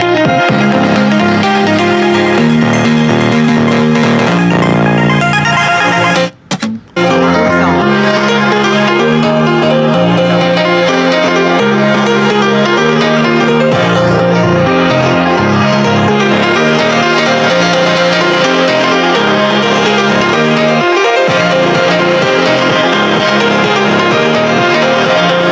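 A JBL Clip 5 portable speaker plays music at full volume, a loud, dense mix with a steady beat and sustained melody that drops out briefly and then resumes, with no talking.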